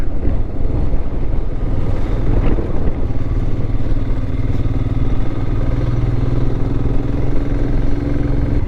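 Royal Enfield Himalayan motorcycle ridden on a loose, rough mountain road: a steady, loud engine drone with wind rumble and rattling clatter, continuous and close, with no voices.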